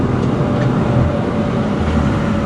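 A 600-horsepower Audi RS5 coupe launches for a 0-60 run with its tires spinning, giving a dense, loud, unbroken roar of engine and road noise that holds steady for the whole stretch.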